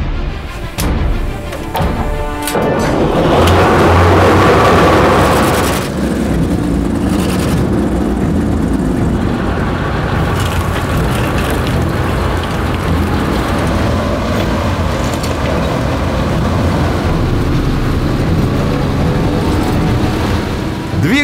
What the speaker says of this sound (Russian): Двигатель совсем не бодрый, но тяговитый.